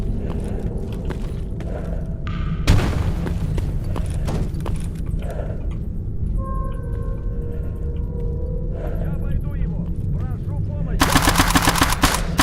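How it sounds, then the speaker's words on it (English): Gunfire in S.T.A.L.K.E.R. Anomaly rings out as sharp repeated shots and bursts, with a loud blast near the start and another dense burst of fire at the end, while a voice talks in places. "He's throwing a grenade."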